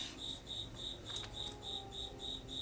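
Crickets chirping in a video game, a steady high pulsing trill repeating about twice a second over a low ambient hum, with no voices.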